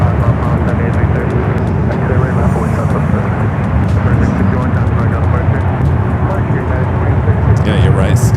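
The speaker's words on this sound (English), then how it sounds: "Also have Air France, the 777-300ER heading back to Paris," An Air France Boeing 777-300ER jet taxis out at San Francisco airport for a flight to Paris, a loud continuous broadband engine roar that holds steady throughout, with people talking over it.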